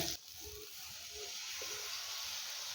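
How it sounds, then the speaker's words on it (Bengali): Spice-washing water poured into spices frying in a pan for a vegetarian gathi kochu (taro) curry, giving a steady, fairly faint hiss and sizzle that starts abruptly and holds evenly throughout. "এবার এর মধ্যে দেব মশলা ধোয়ার জলটা"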